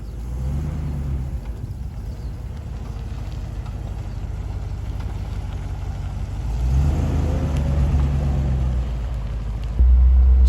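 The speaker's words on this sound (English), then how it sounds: "So, setting off in the Range Rover Classic, the 1989 Range Rover Classic." A 1989 Range Rover Classic pulls away on a gravel road, its engine a steady low rumble throughout that swells briefly midway and rises again near the end, with no talk.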